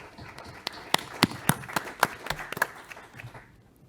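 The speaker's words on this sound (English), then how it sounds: "Patrick, you deserve a round of applause." A small gathering at a company's combined general meeting gives a round of handclaps: a dozen or so distinct, sharp claps in an uneven rhythm, fairly close, tapering off and fading after about three seconds.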